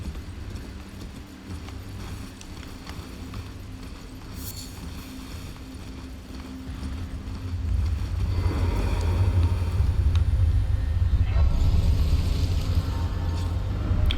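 Horse hoofbeats while riding in the video game Elden Ring, a steady rhythmic clip-clop under a continuous low game ambience that swells louder and fuller about halfway through.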